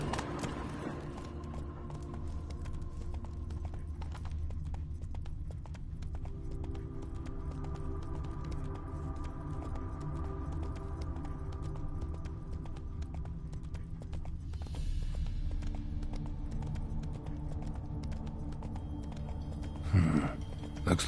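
Hoofbeats of the horse Roach galloping in a video game, a steady rhythmic clip-clop carried under a continuous low rumble of game ambience, with no voices.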